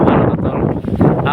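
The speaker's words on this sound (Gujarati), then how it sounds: "પવન આમથી જોરદાર આવ્યો." Strong wind buffets the microphone outdoors during black sesame threshing in a sunny village field, making a loud, continuous rumbling roar across the whole short stretch.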